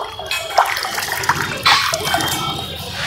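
Water in a temple pond where people bathe sloshes and splashes close by in irregular bursts, with a steady wet rush in between and no talking.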